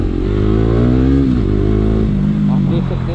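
A KTM Duke 250 motorcycle fitted with an NOS octane booster accelerates hard, its engine note rising through revs with a brief dip and a clattery edge, loud and close.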